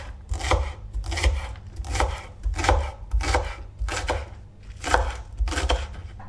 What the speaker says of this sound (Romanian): 5 fire de ceapă verde pe care le-am tocat